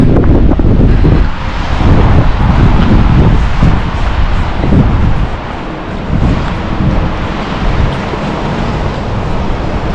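Strong wind roars and buffets the microphone continuously in dark, rainy weather in Finland, a loud broadband rush with gusting surges and no voices.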